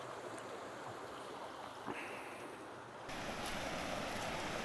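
A swollen river rushes under a bridge in rural Thailand, a constant broad roar of flowing water that grows slightly louder and brighter partway through, close and steady with no talk.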